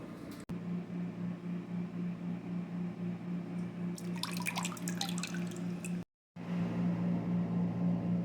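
Water trickles and drips onto freshly repotted soil as a ficus bonsai is watered indoors, with a steady low hum beneath and a burst of small splashing drips in the middle, quiet and close.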